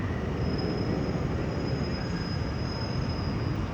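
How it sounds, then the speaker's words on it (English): A train pulls into London Charing Cross station with a steady low rumble of wheels on track and a thin, sustained high wheel squeal running throughout; no one speaks. "But anyway, here comes a train."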